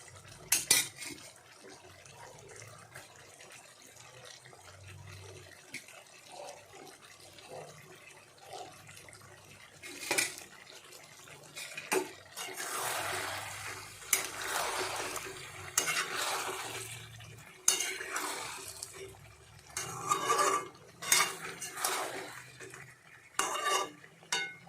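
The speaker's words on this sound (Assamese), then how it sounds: "ভাজি থোৱা আলুখিনি দি দিম।" Fried potatoes tipped into a pan of half-cooked broiler chicken, then stirred with a utensil, giving intermittent clattering and scraping bursts against the pan, moderately close, with quieter gaps between and no talking.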